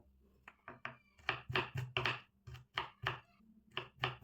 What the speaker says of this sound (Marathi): आता आपण अद्रक पण चॉप करून घेऊया.